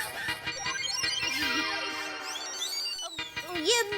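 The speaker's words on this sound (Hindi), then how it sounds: "किसी मजदूर का फोन बजा होगा।" A mobile phone ringtone plays continuously as a bright, warbling electronic melody of rising and falling tones, moderately loud and close, ringing alone with no talk over it.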